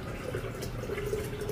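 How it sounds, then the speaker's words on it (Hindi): Water pours steadily into a bowl of buttermilk with mint, a continuous close splashing and filling sound at moderate volume, heard alone without talk. "4 कटोरी इसमें पानी डाल रही हूँ, करीब 4 बाउल के करीब"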